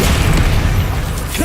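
Bombarda spell explosion in the Hogwarts Legacy video game: a loud, sustained low-end boom that rumbles steadily through the short moment, close and heavy with no talking.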